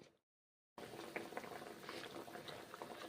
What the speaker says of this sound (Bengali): এই যে দেখুন ফুটছে